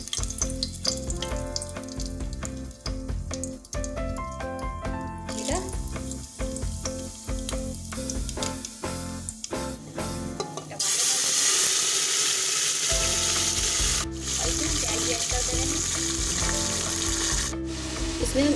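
Bay leaves and asafoetida dropped into hot mustard oil in a pressure cooker, a loud continuous sizzle and crackle that swells midway, with background music playing throughout.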